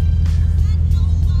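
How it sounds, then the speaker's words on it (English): A Nissan 240SX engine idles nearby in cold weather, a steady low rumble with a regular pulse throughout, alone without talk. "I have the 240 on, that way the battery charges"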